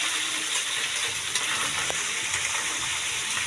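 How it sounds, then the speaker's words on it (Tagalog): Garlic and onion sautéing in a hot pan for duck adobo, a steady close sizzle and crackle of frying with faint stirring clinks, no talking. "Ito, igigisa natin ngayon. Alright. Oh, bawang sibuyas."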